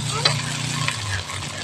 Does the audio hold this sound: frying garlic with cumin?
yes